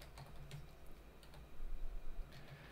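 Soft keystrokes on a computer keyboard, a few scattered taps close by and fairly faint, with no voices.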